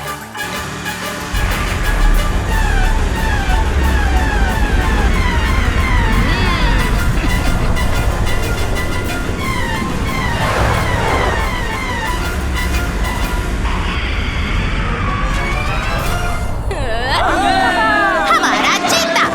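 A loud wailing siren rises and falls continuously over busy background noise and music in an animated Hindi cartoon scene, with a clear sweeping tone near the end.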